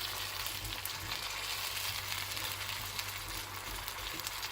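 Spices and mutton frying in a pot for mutton handi, a steady dense sizzle filling the whole stretch at close range with no talk over it.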